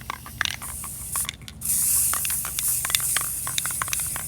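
Primer hissing steadily out of an aerosol can for a craft room sign project, a long continuous spray burst with short clicks and taps around it, close and loud.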